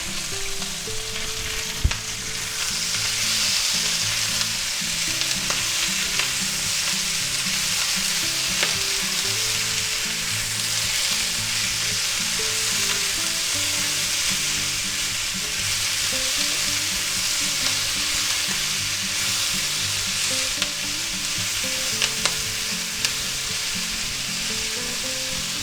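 Green peppers, red peppers and onions stir-frying in a pan with sausage, a continuous loud sizzle close up with occasional stirring scrapes and clicks, no talking.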